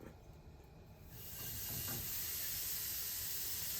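Bacon dropped into a hot pot while a homemade pizza topping is prepared, a quiet start that swells into a loud, steady hiss and sizzle that carries on alone, no talk.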